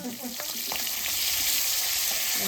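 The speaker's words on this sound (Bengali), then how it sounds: "মাছটা হালকা করে ভাজবা" Fish fries in a pan with a steady, bright sizzle, joined early on by a few soft clinks and stirring scrapes, close and continuous, with no voices.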